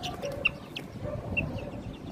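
Young chicks of native and Sasso breeds chirp in short, bright peeps scattered over a low background murmur, close by and fairly loud.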